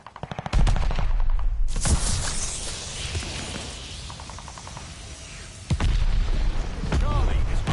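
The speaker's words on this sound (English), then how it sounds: "Friendly mortar fire coming." Friendly mortar fire in a PS4 war game: loud, heavy booms and sustained gunfire fill the scene, with a fresh blast midway and dense shooting continuing, voices faintly mixed in.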